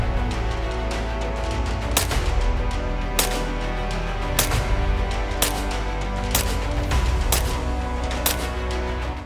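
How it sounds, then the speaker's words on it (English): A KalibrGun Springbok semi-auto airgun fires eight sharp, evenly spaced shots indoors, roughly one per second, each a short crack over a loud, steady background hum. "I'll do 8 more shots right into that same hole"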